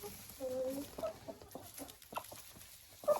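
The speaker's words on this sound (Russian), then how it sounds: "И смотрите, как куры сразу набрасываются на сено." Chickens cluck in short, intermittent bursts while pecking at hay, fairly quiet and close, with scattered rustling between calls.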